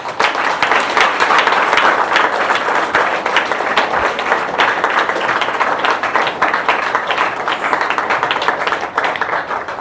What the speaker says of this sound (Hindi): हमारे हस्बैंड के लिए एक जबरदस्त ताली होनी चाहिए